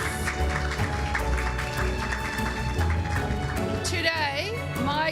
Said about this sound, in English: Please join me again in giving them a big round of applause of congratulations.